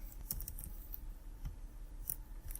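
Someone types a name on a computer keyboard while setting up Windows Server 2019 in VirtualBox, making a few quiet, quick, irregular clicks against a hushed background.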